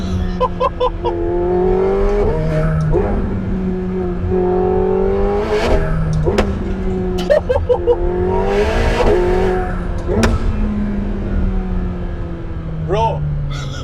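A McLaren 750S sports car accelerating hard, its engine climbing through rising pitch sweeps with abrupt gear-change breaks and sharp cracks, loud and close, with voices talking over it.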